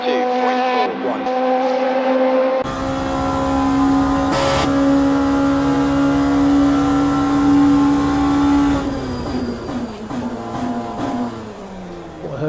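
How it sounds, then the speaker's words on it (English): An LMP2 race car at Monza in the Le Mans Ultimate sim drones loudly at a steady high engine pitch down the straight, then its tone shifts and wavers as another car briefly passes nearby. "I heard another car then for a moment."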